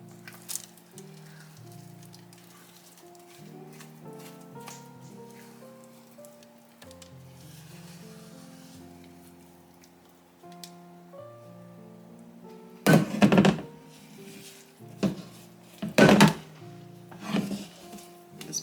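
Fantasy fudge mixture is scraped from a hot mixing bowl into a pan. A few sharp scrapes and clunks of the utensil against the cookware come near the end, following a stretch of soft background music.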